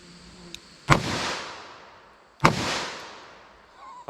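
Two loud .357 Magnum revolver shots fired into a ballistic test, spaced about a second and a half apart, each a sharp crack with a long echoing decay outdoors.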